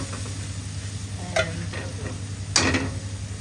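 Chicken jalfrezi fries in a restaurant pan with a steady sizzle over a constant kitchen hum, broken by two brief scraping stirs of a utensil against the pan.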